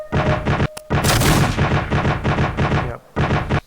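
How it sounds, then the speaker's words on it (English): Direct gunfire in the Command: Shifting Sands war game, loud rapid bursts of shots in close succession with brief gaps between volleys, plus a sharp blast near the start. "they're doing direct fire on him"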